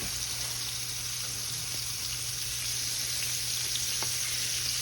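Shrimp frying alongside oysters in a pan of hot oil, giving a steady, loud, close sizzle with a faint low hum beneath and an occasional soft tap, no voices.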